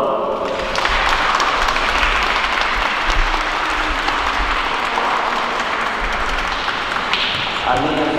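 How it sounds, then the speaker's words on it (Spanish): Wedding guests applaud inside a church, a loud, dense and steady wash of clapping from a large crowd that continues throughout, with a few voices mixed in beneath it. "Les damos un aplauso."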